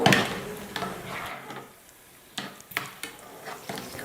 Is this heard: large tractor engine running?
no